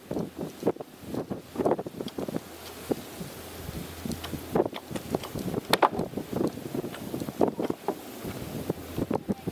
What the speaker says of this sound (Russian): Ветер большой, ты ничего не услышишь.